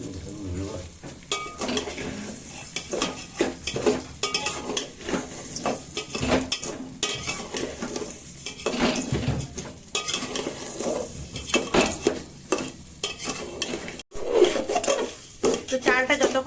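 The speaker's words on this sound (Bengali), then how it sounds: "পোলাওয়ের চালটা যেটা অনেকক্ষণ আগে মাখিয়ে রেখেছিলাম, তো সেটা ভালো করে ফ্রাই করে নেবে তেলটার সঙ্গে।" Soaked pulao rice fries in hot oil while a spoon stirs and scrapes the pan, giving a continuous close sizzle broken by frequent clattering strokes against the metal.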